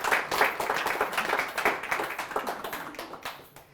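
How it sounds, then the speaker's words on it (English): A corporate keynote audience claps together in a dense burst of applause, steady at first and then gradually thinning and fading toward the end, moderately distant in a large room. "we all need to give her a nice round of applause"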